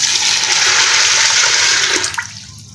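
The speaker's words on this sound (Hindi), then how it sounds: "1 लीटर पानी यूज़ किया है और भी हम इसमें डालेंगे" Water pouring forcefully into a pressure cooker holding washed red beans (lobia), a loud continuous rushing gush close by that tapers off near the end.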